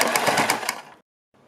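A sewing machine stitches along a suit neckline in a rapid, close, rattling run that stops abruptly, followed by a short silence and a faint resumption.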